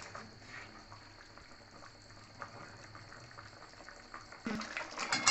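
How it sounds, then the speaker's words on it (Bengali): Potatoes boiling in a pot, a soft continuous bubbling simmer up close with a louder burst of bubbling and stirring at the end, no talking. "আলু ফুটছে"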